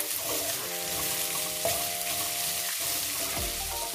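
Onions fry with salt in a pan for a chicken curry, giving a steady close sizzle with a few scraping stirs and a sustained tonal hum running underneath.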